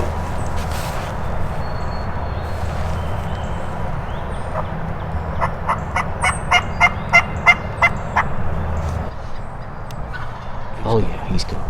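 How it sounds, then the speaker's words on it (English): Two wild turkey gobblers call outdoors, a run of sharp, rapid gobbles rising mid-distance over steady rustling ambience, with a few softer calls before and after. "There's 2 gobblers in there."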